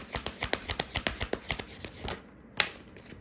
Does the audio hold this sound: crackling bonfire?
no